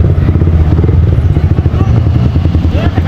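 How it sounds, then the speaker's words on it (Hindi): A motorcycle popping a wheelie on a road ride in Chhattisgarh near Baramkela, its engine revving loud and close with a rough, pulsing rumble and rattle throughout. "इन बरम किला के 10 किलोमीटर आगे में व्हीली मार रहे हैं भाई हम लोग अभी।"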